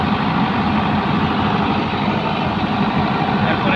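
A generator engine, manually started, running steadily with a loud, dense low rumble that holds constant and close throughout, no voices.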